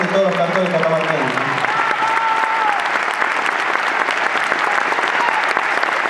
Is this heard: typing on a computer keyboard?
no